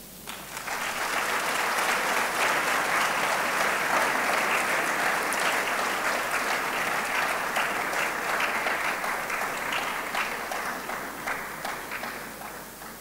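Sustained audience applause at a TWEEK 2025 tech event, loud and dense, building quickly and holding steady for about twelve seconds before tapering slightly.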